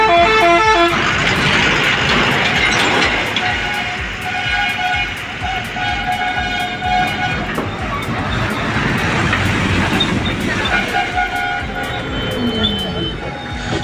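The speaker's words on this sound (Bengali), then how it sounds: "একসঙ্গে দুটো বাস আসছে" Two buses pull up together on a roadside near Farakka, beside a railway line where a goods train passes; loud engine rumble and repeated horn blasts fill the scene, with traffic noise close by throughout.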